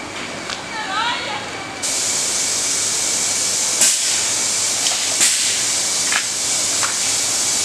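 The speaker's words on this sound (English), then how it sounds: "He's gonna spray that metal flake on top of the clear." A spray gun lays metal flake over clear gel coat on a bass boat hull, giving a steady broadband hiss that starts about two seconds in and runs continuously, close and fairly loud, with a few sharp clicks.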